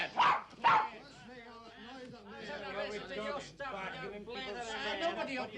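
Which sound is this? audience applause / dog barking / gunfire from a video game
dog barking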